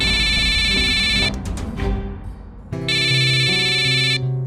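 A phone ringtone trills loudly for Raghu's incoming call in a Hindi crime drama, sounding in two bright electronic bursts separated by a brief pause, with a little background noise between.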